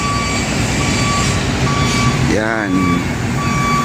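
A large cement truck reverses onto a floating bridge over the Pasig River during a concrete pour, its steady repeating backup beeps sounding over continuous heavy engine and site noise while someone talks throughout.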